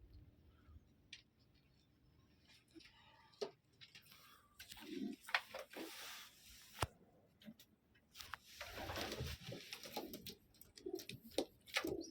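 Pet pigeons or doves kept for sale in Arnouville, France, give soft, low coos in short bursts, close by but faint, with light shuffling and taps between calls.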